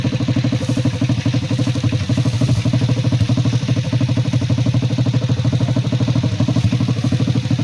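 A motorcycle carrying a load of harvested rice in sacks runs steadily at a close, loud level, its engine drone even and continuous with no talk.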